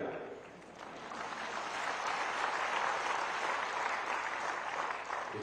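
Crowd applause at an outdoor political rally in Siddhpur, Dharampur, Himachal, rising after a brief voice and continuing as a full, steady clatter of many hands, fairly loud and even to the end.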